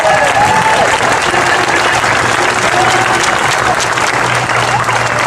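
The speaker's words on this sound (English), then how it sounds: "So give yourselves another round of applause." A crowd applauding at a Colorado U.S. Senate Democratic unity rally, a loud, even wash of clapping from many hands that holds steady throughout with a few faint shouts mixed in.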